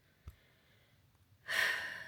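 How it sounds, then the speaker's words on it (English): A person yawns once with a breathy, drawn-out exhale that rises loudly near the end, after a short soft intake of breath and quiet room background. "Sorry, I keep yawning."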